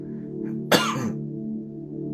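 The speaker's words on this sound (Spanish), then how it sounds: "Y es como una picazón, es una tos seca." A single dry, itchy cough bursts out sharply once, near and loud, over a steady low background hum with no talking.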